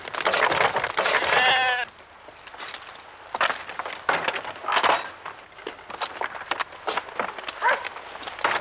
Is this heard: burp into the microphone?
no